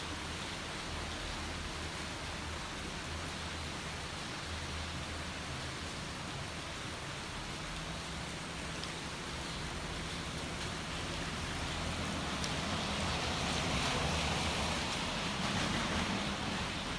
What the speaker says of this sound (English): The rain now is pretty much steady.